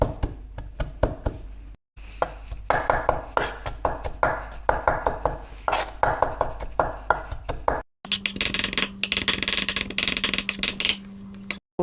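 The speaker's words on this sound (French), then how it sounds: "Gingembre aussi on hache ensemble." A knife chops garlic and ginger together on a board in rapid, steady, close-up strikes. The chopping pauses briefly twice, then resumes with a denser, faster run.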